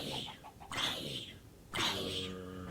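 Minecraft chicken giving a few short clucks in quick bursts, separated by brief pauses, fairly close and clear with no voices.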